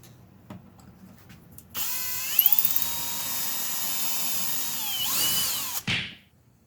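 A power drill bores holes in a wooden drawer back through a BLUM concealed-slide template, a close, loud whine that starts abruptly, holds steady with a short ratcheting stutter, dips in pitch, then winds down to stop.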